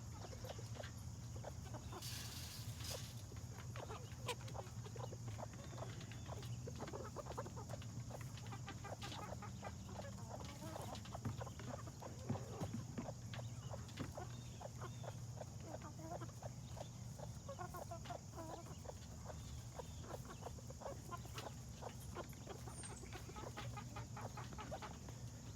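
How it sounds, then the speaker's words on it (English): A farm flock of chickens, including a feral rooster, clucks continuously at low level, soft overlapping clucks and scratching over a steady hum, with a faint voice now and then. "Over on the left you can see the rooster who's been feral on the farm for some time."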